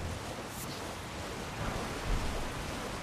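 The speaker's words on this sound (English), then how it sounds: "This little area by a waterfall." A waterfall in the Elden Ring video game rushes as a steady, dense wash of broadband noise, continuous and fairly close, with no voices over it.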